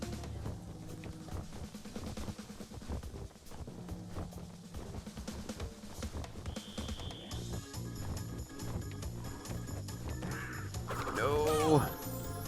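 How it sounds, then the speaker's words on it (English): Harsh crow caws from the birds in Crash Bandicoot N. Sane Trilogy repeat over the game's busy background music and effects, with squawks thickening near the end as a player talks. "Oh wait, the birds come back!"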